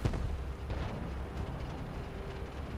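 A Conqueror tank fires its cannon in a tank battle game, one heavy, close boom at the start that rolls off into a low rumbling decay with battlefield ambience behind it.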